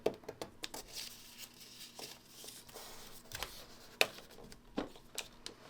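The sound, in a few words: trimming quilt fabric piece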